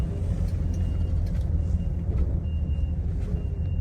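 A truck sits in the way of a 1962 Chevrolet Bel Air sedan on the road, its reversing alarm beeping faintly and steadily over a low idling engine rumble.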